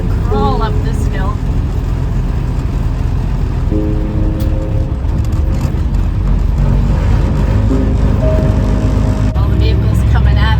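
A car with its windows open slowly climbing a hill on a road trip from New York to Brockville, Ontario, giving a steady loud engine and road rumble with wind noise, while people talk over it.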